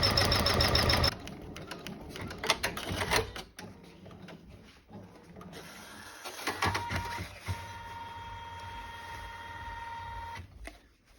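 A home sewing machine stitches towel fabric in bursts, with rapid mechanical whirring runs separated by pauses, clicks and handling noises, close and moderately loud.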